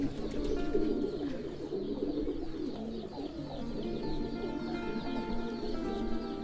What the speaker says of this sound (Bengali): এই যে কবুতর আরেকটা, এটা থেকে সিলভার প্যাটার্নের কবুতর হয়।